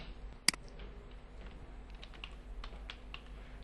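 Keys on a computer keyboard are tapped in a quiet, irregular run of soft clicks, with one sharper keystroke near the start, close by with no talking.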